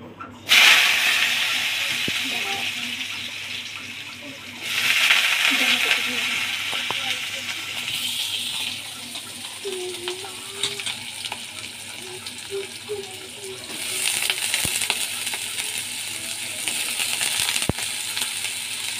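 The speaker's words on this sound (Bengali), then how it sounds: "আর এখানে ফোড়ন দিয়ে দিলাম শুকনো লঙ্কা" Dried red chillies and black cumin seeds sizzle in hot oil for a spiced potato dish, a loud close hiss that swells as spices hit the pan and fades, returning in bursts, with someone speaking over it.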